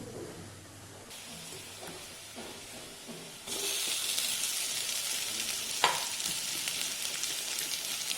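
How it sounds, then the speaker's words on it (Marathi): Bitter gourd, salted and squeezed, tipped into onions with turmeric and sautéed in a pan for a dry Maharashtrian sabzi; a quiet sizzle jumps to a loud, steady frying hiss midway, with a sharp clink of a utensil near the end. "मीठ लावून ठेवलेली कारली ही छान घट्ट पिळून घेतली ती आता आपण कांद्यात टाकून घेऊया"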